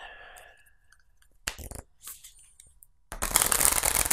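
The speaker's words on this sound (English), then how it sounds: "the last thing I need to do is shuffle the decks so that you know that I haven't stacked them" Prototype card decks for the Senjutsu board game are shuffled close up, in two quick riffled bursts separated by a short pause, with faint handling before the first.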